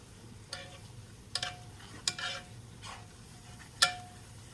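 A whisk works flour into melted butter in a pot for a roux, giving sparse metallic clinks and taps against the pot over a faint low hum, close and quiet with no talk.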